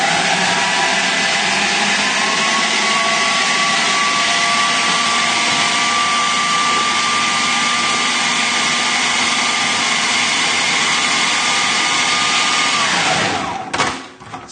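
A kitchen blender loudly blitzes a coriander and lemon crust mixture, a steady high whirring roar that runs for about thirteen seconds, then winds down abruptly at the end.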